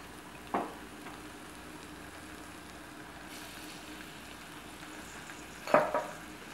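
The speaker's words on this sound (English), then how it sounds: "I'm going to add the ginger and garlic." Ginger and garlic fry in a pan with a faint, steady sizzle, broken by a couple of brief stirring scrapes near the start and end.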